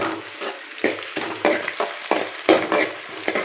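Dried red chillies frying in a pan, bursts of sizzling crackle with scraping stirs in an uneven rhythm, close and fairly loud, with no voices.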